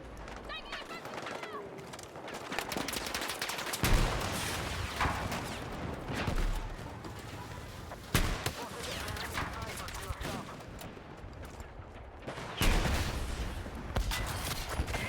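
Dense, continuous Battlefield 6 game audio on the Cairo Conquest map, with repeated gunfire bursts and explosions throughout, loud and busy, with a voice talking faintly underneath.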